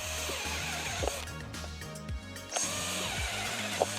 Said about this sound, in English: hole saw on, just taking a bit out